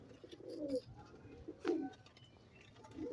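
A pigeon coos softly in a few low, throaty phrases, with quiet pauses between them.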